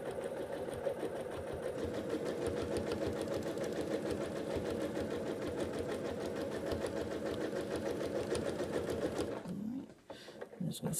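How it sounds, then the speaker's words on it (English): Sewing machine doing free-motion quilting of a fern feather filler design, a fast steady stitching rattle running close and continuous for about nine seconds before stopping. "I'm just going to stitch a couple of times."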